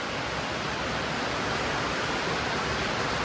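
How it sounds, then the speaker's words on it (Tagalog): An aquarium waterfall gives off a steady, even rush of falling water, continuous and moderately loud, with no break or voice during the short stretch. "Wow! Waterfall."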